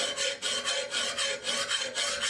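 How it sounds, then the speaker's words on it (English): A metal file rasps along the back edge of a lawnmower blade to remove a burr, a close, steady back-and-forth scraping in even strokes, about five passes, with no voices. "take the file and hold it parallel to the back and run it up and down until you've gotten rid of the burr"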